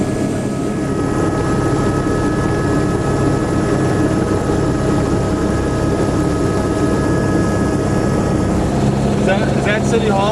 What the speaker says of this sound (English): We're on a helicopter scout of Philadelphia